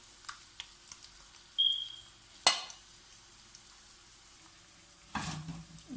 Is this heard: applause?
no